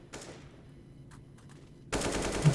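AK rifle fire in a CS:GO match, with a few faint scattered shots early on and then a loud, dense burst of rapid automatic fire close by near the end.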